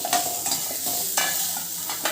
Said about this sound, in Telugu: ఇది మిక్స్ చేద్దామండి ఇప్పుడు